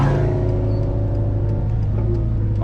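A white Lamborghini's engine roars past in traffic, a loud, steady low rumble that holds for under three seconds, heard from inside a nearby car.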